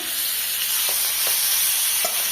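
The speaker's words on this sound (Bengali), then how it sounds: "মাছ ভেজে নিচ্ছে" Fish frying in a pan in a village kitchen, a steady close hiss and crackle of hot oil running throughout, with a few soft stirring clicks.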